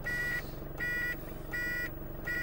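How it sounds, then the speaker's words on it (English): An aftermarket buzzer on the indicator of a Bessacarr E765 motorhome pulses on and off in even beats, four bursts over a constant engine hum inside the cab. "A previous owner has put a buzzer on the indicator."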